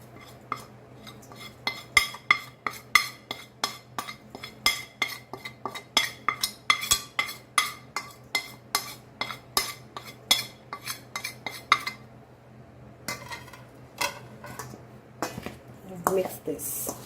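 A spoon stirs masala into raw mango pickle in a bowl, clinking and scraping against the sides in a quick, regular rhythm of sharp taps, close and clear, easing off toward the end.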